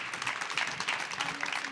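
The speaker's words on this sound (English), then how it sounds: "a little round of applause for Tanya here" A live audience at a leadership summit gives a short round of applause for a woman named Tanya, steady dense clapping filling the room at moderate volume with no clear speech over it.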